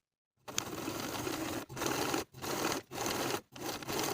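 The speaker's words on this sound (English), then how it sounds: "Sew the pocket to the seam allowance with about 1/8 of an inch seam allowance" A sewing machine stitches a pocket seam on elastic-waist women's pants in four or five bursts separated by brief stops, loud and close, with no voices.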